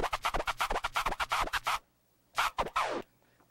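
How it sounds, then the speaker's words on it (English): Slow flare scratches on a DJ turntable, the crossfader clicking the sample on and off in quick choppy bursts, a run of rapid stutters, a pause, then a few more strokes, up close and alone. "But a Flare Scratch is, you start with the fader open"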